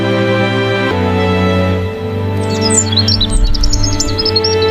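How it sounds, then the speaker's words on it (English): Birdsong outside a garden window in the morning: bright chirps and tweets enter in the second half, riding over a steady, loud tonal backdrop that carries through the whole recording. "My favorite sound is the sound of birds singing in the morning."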